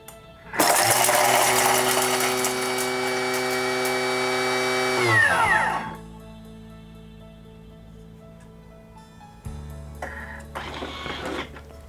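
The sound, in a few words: kitchen food processor blitzing garlic aioli ingredients at speed 9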